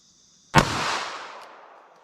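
A single sharp gunshot from a .380 ACP pocket pistol cracks loudly and close after a brief quiet, then rings out in a decaying tail outdoors.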